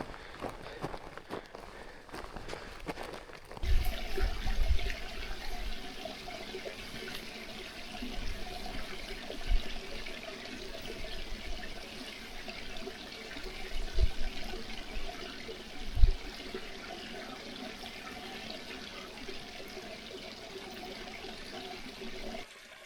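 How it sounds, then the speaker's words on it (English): A small river in the Mourne Mountains flows steadily as a broad, constant rush. Occasional soft thumps and footsteps come close by, with no speech. "Some flowing water there."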